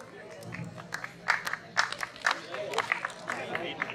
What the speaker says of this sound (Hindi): एक बार दोनों टीमों के लिए जोरदार ताली स्वागत करें।